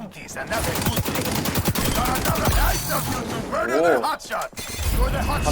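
AK-47 gunfire in the shooter XDefiant, rapid bursts of shots crackling close and loud through a busy game mix, with someone talking over most of it.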